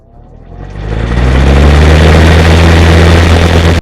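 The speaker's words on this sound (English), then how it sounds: "here's motor startups, starting with the early 90s Lasko." An early 1990s Lasko box fan motor starts up, its hum rising quickly in pitch and volume before settling into a loud, steady drone.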